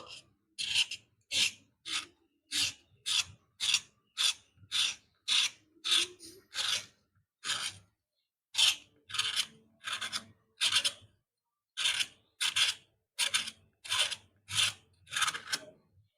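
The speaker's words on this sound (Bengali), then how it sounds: "এভাবে ঘষে ঘষে উপরের ছালটা" Pointed gourds have their skin rubbed and scraped off in quick, even strokes, about two each second, crisp and close, with short pauses between bursts.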